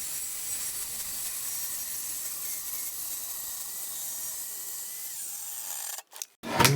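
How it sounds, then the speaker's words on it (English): A track saw plunge-cuts into a wooden workpiece with a steady, fairly loud high whine that holds for several seconds, then winds down and stops with brief clunks at the end. "Plunge the saw slowly all the way into the workpiece"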